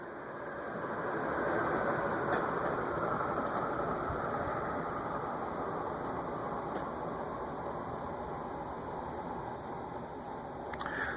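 A 1983 Canarm PleasantAire CP-56T industrial ceiling fan spinning down, a steady broad whooshing hum with faint motor whine that swells slightly early on, then holds and slowly eases, broken by a few light ticks.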